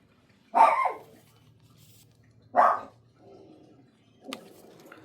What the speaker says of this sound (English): is barking at the birds who are making a lot of noise outside